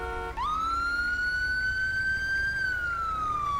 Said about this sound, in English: So here comes the ambulance.